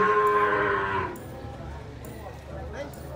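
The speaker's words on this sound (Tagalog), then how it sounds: "Kalabaw." A carabao (water buffalo) at a livestock market gives a single long, loud, close moo lasting about a second, followed by background murmur of people talking.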